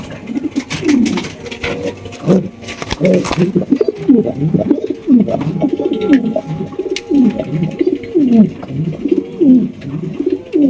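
Pigeons coo continuously at a pigeon market, with throaty repeated calls from several birds close together, set against a busy background with faint voices.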